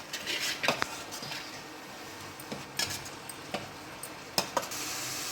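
Spoonfuls of coriander, black pepper and cumin powder are stirred into a pan for malai kofta, giving soft scraping and clinking of a spoon against metal in irregular taps over a faint sizzle.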